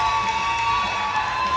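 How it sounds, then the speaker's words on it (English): Crowd cheering and whooping for a powerlifter at the IPF World Open Classic Powerlifting Championships, a sustained loud roar of noise with steady intensity and no clear breaks. "she wants the noise, she wants to hear it, and the crowd more than happy to oblige for this momentous event"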